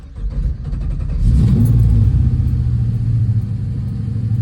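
A 1971 Dodge Challenger with a swapped 392 engine cranks and fires up, then settles into a deep, loud, close rumble with a rise in revs and a throbbing, uneven idle.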